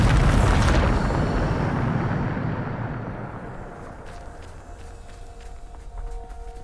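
A Bombarda spell explodes in Hogwarts Legacy as one loud, broad blast that rolls and rumbles, then slowly decays into a low, steady background hum with faint high tones.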